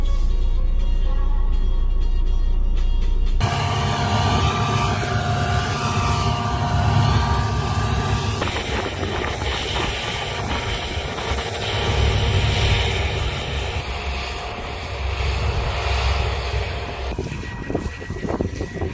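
A New Holland 8040 tractor working with a Kobzarenko grain cart in a farm field, heard as a steady engine drone under heavy wind buffeting on the microphone, shifting in tone as the machine moves.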